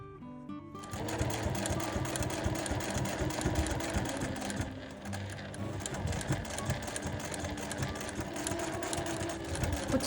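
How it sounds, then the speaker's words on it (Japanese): A sewing machine double-stitches an oxford-cloth backpack shoulder strap with tape sewn in, its fast steady needle chatter running nearly continuously and close, with a brief dip in pace midway. "こちらも持ち手と同じようにダブルステッチで仕上げていきます。"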